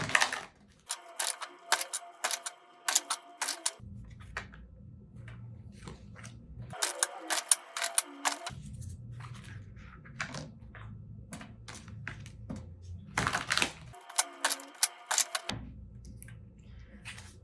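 A deck of tarot cards is shuffled in several bursts of quick riffling flutters and snaps, separated by quieter pauses with a low background hum, heard close up.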